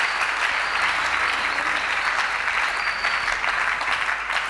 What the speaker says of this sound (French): Est-ce que nous pouvons acclamer très fort pour le roi des rois?